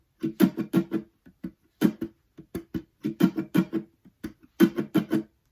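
Full percussion line on guitar for a live looping version of a song: sharp slaps and muted strums hit in rapid bursts with brief gaps, played alone at close range.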